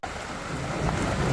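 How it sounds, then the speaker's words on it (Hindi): Heavy rain pours down outside in a continuous dense hiss, with a deep rumbling roar beneath it and scattered heavier drops, steady and loud throughout. "बारिश देखो कितनी तगड़ी बारिश हो रही है, इतनी इतनी तेज़ बारिश हो रही है।"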